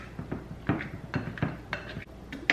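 A utensil scrapes and knocks against a bowl while peanut butter blondie batter is stirred, a close run of irregular clinks and dull taps with no talking.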